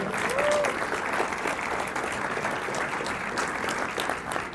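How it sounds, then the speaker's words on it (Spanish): Church congregation applauding during a sermon, a dense steady wash of many hands clapping at once, loud and sustained throughout with a few faint voices mixed in. "Así que denle un aplauso al Señor."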